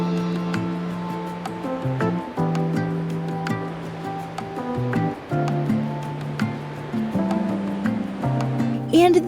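Ocean surf washes steadily along coastal cliffs and beaches near Sydney on a cool day, forming a constant broad roar under a layer of tonal sounds.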